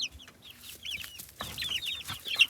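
Several chickens cluck nearby in quick, overlapping bursts, with soft rustling in the background and no talking.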